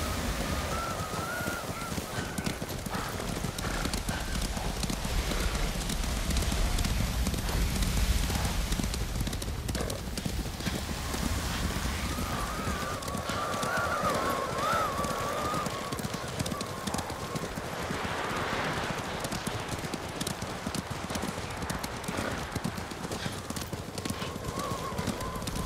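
Horse hooves clip-clop steadily through the whole stretch in Ghost of Tsushima, with a short whinny and game ambience in the background.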